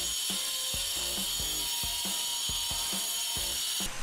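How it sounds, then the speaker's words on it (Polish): An angle grinder cutting through ceramic wall tiles, a steady high-pitched whine with a regular series of rhythmic knocks underneath, close and continuous without speech. "Nie mam tu płyt gipsowych, tylko glazurę, więc naciąłem fleksem."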